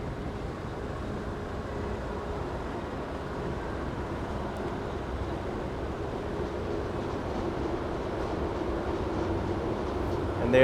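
A Miami Metrorail train rolls past outdoors, a steady broad rumble and rail noise that builds slightly over about ten seconds, heard from a bike ride with faint background sound.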